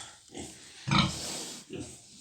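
A large sow grunts in a pen, giving a couple of close, low grunts with the loudest burst near the middle and a softer one at the end.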